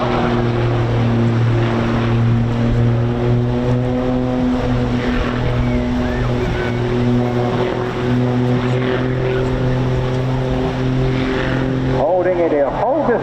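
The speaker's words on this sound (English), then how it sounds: "So this is the aircraft now reacting to the turn of the propeller" A propeller aircraft flying a display at an air show drones loudly and steadily throughout, with a harmonic engine tone that shifts pitch near the end as the aircraft turns.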